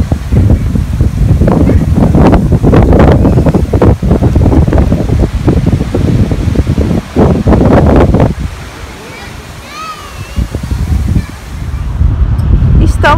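Strong outdoor wind roars and buffets the microphone in heavy gusts, dropping briefly before surging again, with a faint whistle-like sound in the lull.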